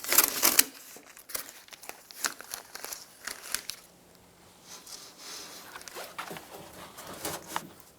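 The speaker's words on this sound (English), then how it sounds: "Undo the tape for the window" Tape is peeled off the window of a 2012-2016 Subaru during a power window motor and regulator replacement. Close, crinkly tearing and sticky ripping come in irregular bursts, with a quieter pause in the middle.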